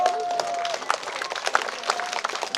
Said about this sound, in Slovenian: dajmo prvo en aplavz za vse nastopajoče danes tukaj